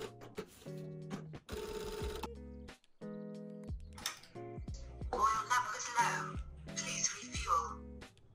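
A Juki DDL 8000A industrial sewing machine with auto foot lift runs at high speed in short mechanical bursts during the second half, over steady tonal background music.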